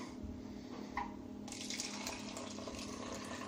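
A can of Smirnoff Ice Smash Screwdriver, an orange-flavoured fizzy drink, is poured into a glass, giving a steady close-up splashing stream with a hiss of carbonation and no talk.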